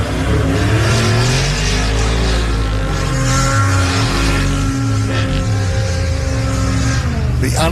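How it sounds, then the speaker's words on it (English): A Polaris off-road racing vehicle roars at the Loveday 400 4x4 race at LoveDay 4x4 Adventure Park, its engine loud and close, revving up and down steadily alongside other race traffic. "The unmistakable sound of the Polaris behind the geyser truck there."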